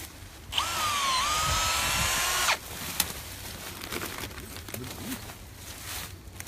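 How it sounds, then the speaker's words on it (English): A power drill bores a hole into a sugar maple tree in one loud, sustained two-second whine whose pitch dips briefly, then it stops abruptly and a few quiet knocks and rustles follow. "So we're going to drill a hole in it,"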